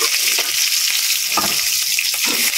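Onion and garlic frying in oil for octopus adobo, a steady close sizzle with a few soft stirring scrapes, with no talking.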